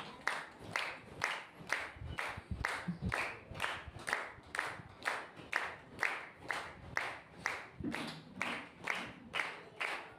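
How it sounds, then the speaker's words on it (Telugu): A congregation claps in steady, unison rhythm to welcome pastors onto the stage at a third church anniversary, the beats even and sustained, with faint voices underneath. "చప్పట్లు కొడుతూ దైవజనులను మనం"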